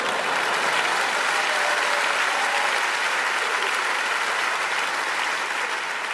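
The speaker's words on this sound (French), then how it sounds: "Ouais, applaudis, ça me fait plaisir." Steady, dense applause from a large audience fills the whole stretch at an even, sustained level during a French comedy stand-up set, with no voices breaking through.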